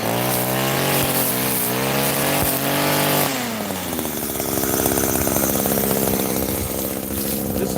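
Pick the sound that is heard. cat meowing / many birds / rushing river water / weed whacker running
weed whacker running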